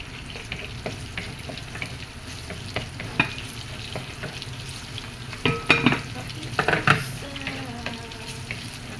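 Garlic frying in a pan ahead of drained squid for adobong tuyo, with a steady close sizzle and stirring clatter, plus a brief louder burst of crackle and scraping partway through.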